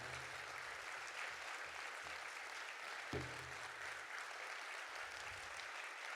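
Audience applause at an opening ceremony in the Black Hills, a steady wash of clapping from a crowd with a brief bump partway through, continuous and moderately loud throughout.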